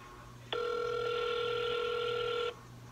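A single two-second telephone ringback tone sounds during an outgoing call. It is a steady, buzzing electronic tone with a clean start and stop over a quiet background.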